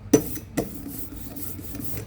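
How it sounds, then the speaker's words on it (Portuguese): A rubber roller spreads printing ink for a woodcut on an umburana wood block, with two sharp close contact sounds followed by a soft, rhythmic rolling rasp. "vai pegando essa tinta e espalhando bem, até ver que as camadas estão bem uniformes"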